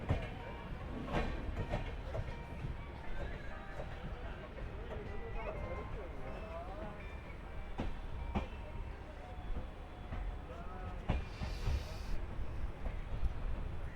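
Gurumukhi Superfast Express running at speed past Dum Dum Junction on the Asansol to Kolkata route, a steady rumble and rattle of the moving train with clattering bursts throughout, heard from on board beneath a voice talking.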